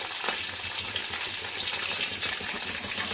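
Green chili, curry leaves, cumin and urad dal tempering sizzle steadily in hot oil for a vegetable poriyal, a dense, close, continuous crackle with no talk.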